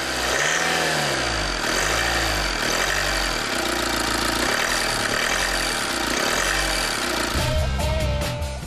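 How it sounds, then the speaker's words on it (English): A Euro 5 common rail diesel car engine runs steadily with a throbbing, pulsing hum and a rhythmic mechanical beat, shifting to a different tone near the end. "Under the hood, the new Euro 5 engine features common rail technology."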